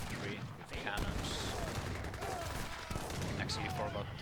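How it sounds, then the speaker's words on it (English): Cannon volleys and gunfire from an Age of Empires III 1v1 match, Spanish versus USA, crackle in quick bursts and scattered bangs, faint and distant-sounding beneath a voice speaking over the battle. "Then I'm gonna shoot this infantry with the cannons."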